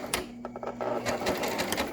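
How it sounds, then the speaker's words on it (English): A sewing machine stitches a cloth face mask in a short, busy burst of rapid mechanical clatter at close range. "we're going to take it to the sewing machine now"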